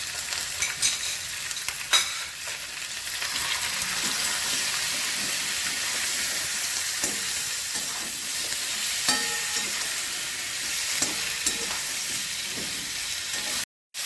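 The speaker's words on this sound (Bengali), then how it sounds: "সবজি কষানো হয়ে গেছে" Vegetables with salt, turmeric and cumin sautéing in a pan for a fish curry with potato, eggplant and beans, a steady loud sizzle with repeated scrapes and stirring clatter, close up, with no voices.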